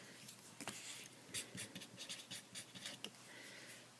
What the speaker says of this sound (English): Let me first write something so that you can see.